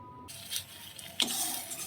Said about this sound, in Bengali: এবারে একটু ভালো করে আমি এটাকে নাড়াচাড়া করে নেব।